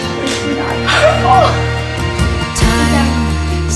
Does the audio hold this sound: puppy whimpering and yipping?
yes